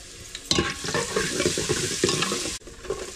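Garlic dropped into hot oil in a pan sizzles loudly and steadily, with stirring scrapes and a brief clatter, close up and without talk.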